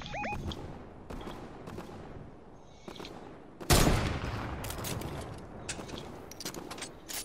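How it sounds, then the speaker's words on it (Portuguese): Scattered gunfire pops in the distance in a Fortnite match, with one louder burst midway, over a dull background hum and faint mechanical clicks. "Estou a ver tiros lá ao fundo."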